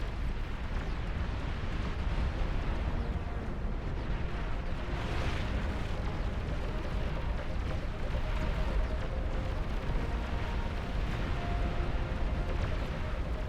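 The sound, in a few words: continuous Starfall artillery barrage in Beyond All Reason video game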